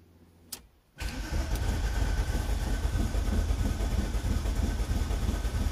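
A VW VR6 turbo engine, with a starter that has a poor contact, cranks briefly after a short click and bursts into life, settling into a loud, rough, steady idle.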